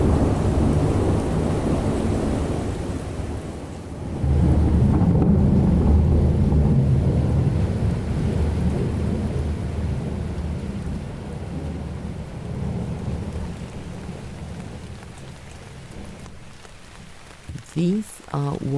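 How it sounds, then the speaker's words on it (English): Thunder rolls through a heavy rainstorm, a loud, continuous low rumble with steady rain hiss and wind, swelling around four seconds and easing toward the end, where a brief faint voice cuts in. "creating a pressure wave we hear as a thunder"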